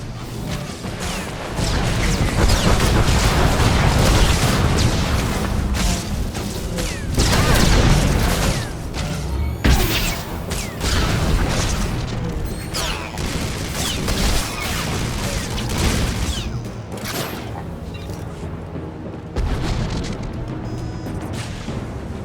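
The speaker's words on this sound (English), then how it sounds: "do not concern yourselves with the harmless exchanges of ionized plasma overhead" Plasma weapon fire streaks overhead in Star Wars: The Old Republic, a loud, continuous barrage of blasts, crashes and booms layered over a dense battle soundscape, thinning out slightly toward the end.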